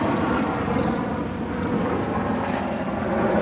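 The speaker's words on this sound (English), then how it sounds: "Look, there's a helicopter moving around up top there" A helicopter drones steadily overhead, a constant low rotor rumble with no voices, loud and unbroken throughout.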